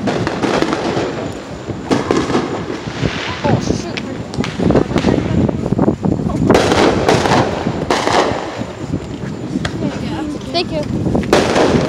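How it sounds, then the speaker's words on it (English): Fireworks burst and crackle over and over, loud and close, at a beach on the Fourth of July, with wind buffeting the microphone and people talking throughout. "We got some fireworks for us too, so we're gonna have to blow them."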